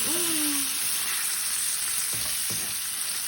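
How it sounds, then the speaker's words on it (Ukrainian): Pork fat crackles and sizzles steadily in a hot frying pan, with a brief scrape and a couple of soft clinks from stirring. "Як апетитно шкварчить сальце, а як воно пахне."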